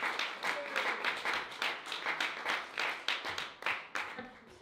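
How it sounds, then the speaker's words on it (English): An audience at a live music evening claps in a brisk, uneven burst of applause lasting several seconds, close and fairly loud, with a few voices mixed in. "Go on, give them a round of applause."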